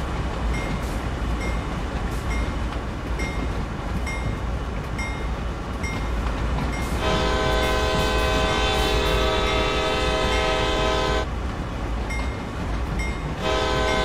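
Locomotives in the Train Sim World railway game rumble steadily, and partway through a loud, sustained multi-tone horn blows. It cuts off, then a brief second horn blast sounds near the end, with no talking.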